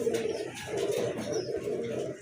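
Large-sized pigeons, including a black and white pair, cooing at a pigeon farm, a soft continuous low murmur of calls filling the background, faint and unaccompanied by talk.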